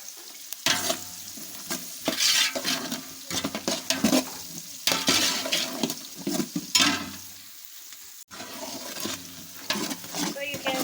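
Fried rice with spice is stirred in a pot, giving repeated scraping and sizzling strokes in irregular bursts, close and moderately loud, with brief quieter gaps between them.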